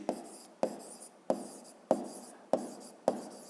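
A pen writes an equation in a notebook with six sharp, evenly spaced strokes, each tapering into a faint scratch, heard alone and close.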